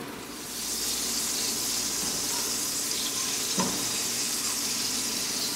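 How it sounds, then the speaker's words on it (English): Margarine melting in a heated pan gives a steady, close sizzle with a soft hiss that holds throughout, plus one brief clink partway through. "Now we're going to go ahead and heat up our pan and add our butter."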